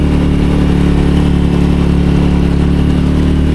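A motorcycle engine labours in second gear up a steep concrete slope, a loud, steady, close drone that holds without easing and carries no voices over it.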